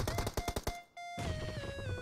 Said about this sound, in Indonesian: Kok kayak ada 2 tembakan ya?